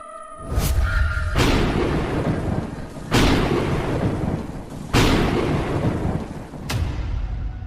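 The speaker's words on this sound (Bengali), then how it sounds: "দেখো কিভাবে বাজ পড়ছে, মনে হয় এক্ষুনি বৃষ্টি হবে" Thunder in a storm scene of a spoken story, several loud booming cracks about every two seconds, each rolling off over steady rain-like noise, no talk.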